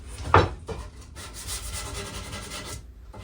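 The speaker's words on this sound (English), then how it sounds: "And now we're sanding." Scratchy rubbing strokes of sanding against store-bought wooden shelf boards, a sharp scrape near the start followed by steadier abrasive passes, close by.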